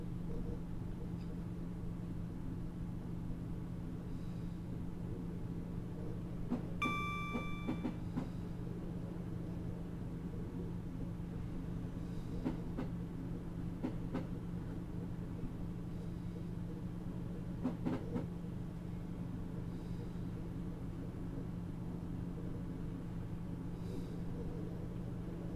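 Simulated Class 150/2 diesel multiple unit running between Newport and Cardiff Central in Train Simulator, a steady low engine drone with rail rumble throughout and a few faint clicks and tonal chimes over it.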